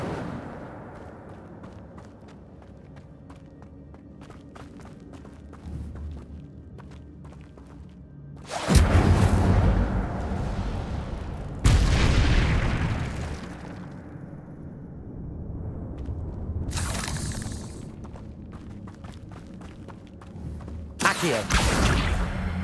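Incendio fire spells go off in Hogwarts Legacy as several loud, roaring bursts a few seconds apart. Each flares and fades over a low rumbling game ambience with scattered faint taps.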